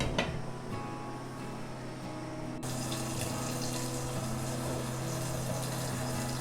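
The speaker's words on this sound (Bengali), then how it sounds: "মাছে বলক চলে এসেছে" Hilsa fish curry with water boils in a covered pot, giving a steady, even bubbling wash with a low hum beneath, continuous throughout and fairly quiet.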